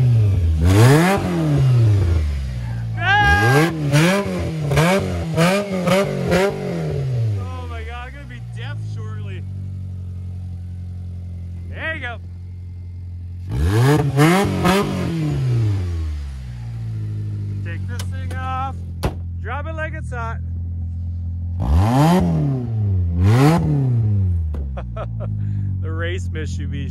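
A Mitsubishi diesel car engine is floored in repeated full-throttle revs, each climbing sharply then dropping back to idle, loud and close, with a voice talking between bursts.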